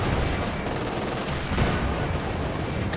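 Artillery and gunfire from a Company of Heroes 2 two-versus-two battle make a dense, continuous roar of shots and blasts that stays loud for the whole short stretch, with no voices.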